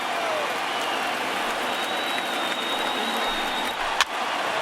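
A packed baseball stadium crowd of over 39,000 roars in a steady, dense wash of cheering and clapping, loud and continuous, with a sharp clap or crack standing out near the end.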